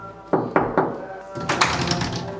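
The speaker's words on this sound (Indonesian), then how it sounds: "Kita ketok." Knocking on the front door of a house, three firm raps close by, followed by a muffled thump and some room noise, with people moving about.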